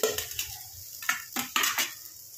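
Spice masala scraped and tipped from a pan onto a plate, with a run of light metallic clinks and scrapes from a utensil against cookware, fairly close and alone.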